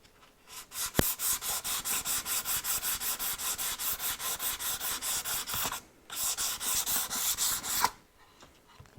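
Coarse-grit sandpaper rubbing on wood in a rebate, a long steady run of fast rhythmic back-and-forth strokes, close and loud, pausing briefly near six seconds and then resuming for another burst.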